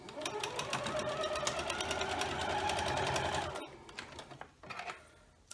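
A sewing machine stitches quilt block columns together in a fast, steady, close-up run, then stops and gives a few short bursts of stitching with handling noises.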